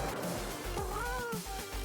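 Ghasts in the Minecraft Nether let out a wavering, cat-like cry that rises and bends in pitch over a low game rumble and a few thuds, alone without talk.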